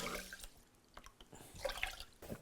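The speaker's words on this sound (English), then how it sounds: "To that, we're going to add some chicken stock" Low sodium chicken stock poured into a cooking pot, a soft liquid splashing and trickling that swells toward the end, fairly close and quiet with no talking.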